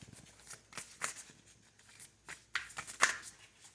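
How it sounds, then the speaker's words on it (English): Tarot cards are shuffled by hand in a series of soft, quick riffles and slaps, faint and close, with a few sharper snaps near the end and no talking. "Shuffle for Capricorn."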